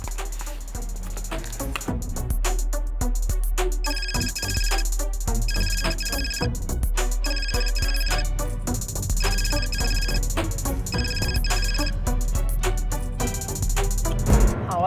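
Phone ringtone of an outgoing call plays steadily with a bright repeating melodic pattern over a low sustained bed, fairly loud and with no talking.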